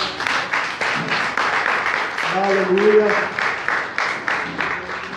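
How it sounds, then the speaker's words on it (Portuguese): A church congregation applauds steadily in a large room, rhythmic clapping throughout, while a voice calls out briefly over it. "dê uma linda salva de palmas para o Senhor"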